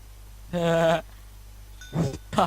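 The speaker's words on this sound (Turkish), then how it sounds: "Koyun mu çıktı lan?" Sheep in the Minecraft video game bleating twice, a clear wavering baa followed by a second broken bleat after a pause, loud and close over a faint background hum.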